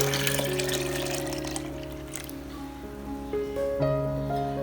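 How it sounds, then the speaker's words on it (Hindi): Lassi poured from a jug into a juicer jug for kadhi, a steady close liquid stream that splashes and gurgles, rising in pitch toward the end as the jug fills. "1 जग हमारे पास लस्सी है, वो हम डालेंगे जूसर जग में"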